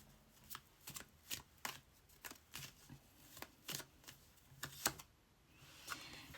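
Tarot cards being shuffled close up in a series of crisp riffling bursts at a fairly regular rhythm, quiet and without speech.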